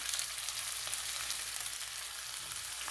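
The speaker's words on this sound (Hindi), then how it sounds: "अब मैं चिकन डाल रही हूँ। इसको डाल के और अच्छी तरह भूनना है।" Chicken sizzles in a pot over browned garlic and ginger, a dense continuous hiss of frying heard close and alone, with faint crackles and stirring throughout.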